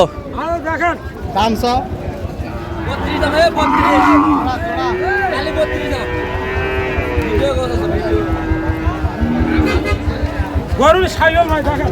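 Sahiwal bulls at a cattle market in Chittagong give low, drawn-out moos amid a busy crowd, with people talking close by throughout.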